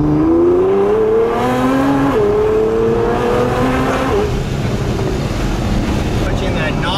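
A Nissan R35 GT-R with a straight-piped exhaust, heard while driving: loud, steady engine drone with rising and falling pitch as it pulls through gears, with wind noise over it.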